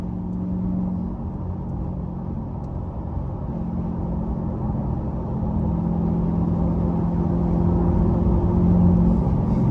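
A 2021 Chevrolet Corvette C8 with its 495-horsepower engine pulls steadily from inside the cabin, a low droning rumble that builds gradually in loudness as the car accelerates, with no talking.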